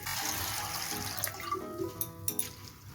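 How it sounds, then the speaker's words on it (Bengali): Sago pearls are rubbed and rinsed by hand in a bowl of water, giving soft sloshing and swishing with a few brief splashes and drips toward the end, close and quiet. "হাত দিয়ে এইভাবে রুগিয়ে ভালো করে ধুয়ে নেব"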